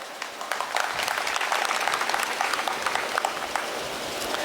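A crowd at an outdoor political rally in Barabanki, Uttar Pradesh, claps continuously, a dense steady wash of many hands close by with no pauses.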